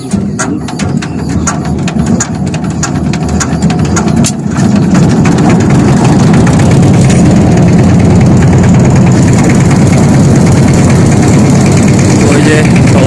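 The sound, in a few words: river trawler boat engine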